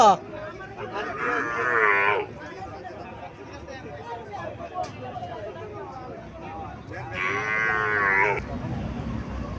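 Loud calf moos ring out twice, near and drawn out, over a busy crowd murmur and someone talking at a cattle market in Mainamati, Cumilla.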